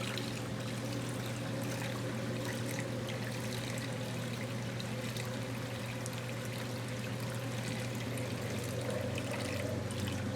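A Maytag washing machine pumps water out through its drain hose, giving a steady, continuous low hum with a constant rushing trickle of water over it, even and unbroken throughout.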